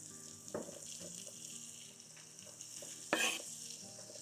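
Salt pork fries in a pan for Newfoundland fisherman's brewis, a low, steady sizzle with a couple of louder scraping clatters, fairly quiet overall.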